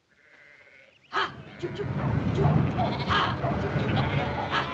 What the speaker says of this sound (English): Drummond, get those sheep out now